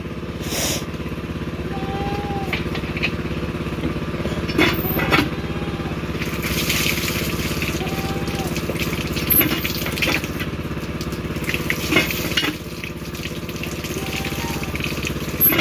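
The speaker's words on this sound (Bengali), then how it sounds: "এদিকে মেশিন চলছে কতটা জল কমে গেছে" Motorized pump running steadily while draining a pond, a continuous engine drone with a low hum, faintly heard outdoors with occasional knocks and small bursts of noise on top.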